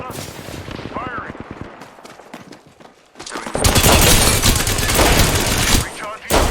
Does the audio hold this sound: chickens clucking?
no